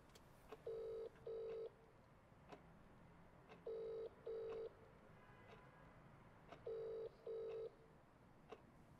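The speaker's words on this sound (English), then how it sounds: "Phone Crowley, if you'd be so kind" A telephone rings with short double ring bursts repeated three times, separated by quiet pauses. The tone is clear and steady, with no talk over it.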